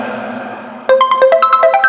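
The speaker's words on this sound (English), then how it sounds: "You're going to try to call that number and see if that phone rings?" A cell phone rings after being called, a series of bright, evenly spaced electronic ringtone notes starting abruptly after a low background hum and repeating in a quick, steady pattern, close and fairly loud.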